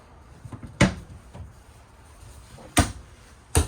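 Cabinet drawers in a 2025 Cruiser RV Stryker ST2614 toy hauler slide and shut, three sharp close thumps with soft rattling between, with no talk.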